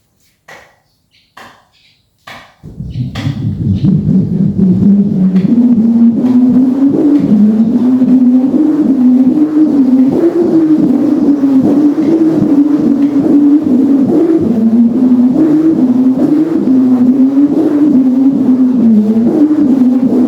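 After a few sharp knocks, a loud continuous drone from a kite's bow hummer starts up and holds, wavering and humming steadily in pitch as the wind drives it.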